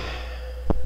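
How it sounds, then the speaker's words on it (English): A heartbeat sound effect in a video game: a single low, muffled thump arrives near the end over a quiet, steady background hum. "Enough with the heartbeat."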